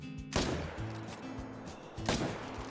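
A hunting rifle in Call of the Wild fires at a moose, with two sharp shots about two seconds apart over steady outdoor game ambience and a low hum.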